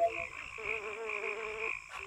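A frog croaks in the Witchwood Swamp of Ahriman's Prophecy, a steady warbling, wavering call lasting nearly two seconds before a brief click, moderately loud against a quiet background.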